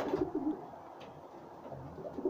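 Soft, low cooing of moulting pigeons repeats in a steady murmur at close range, with a faint rustle in the background and no talking.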